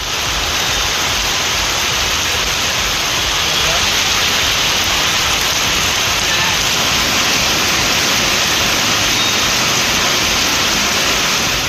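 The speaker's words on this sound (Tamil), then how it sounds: "இதேபோன்று விருதுநகர் மற்றும் சுற்றுவட்டார பகுதிகளிலும் காற்றுடன் கூடிய கனமழை பெய்தது" Heavy rain driven by wind around Virudhunagar makes a loud, unbroken roar of broadband noise that holds steady throughout the whole stretch.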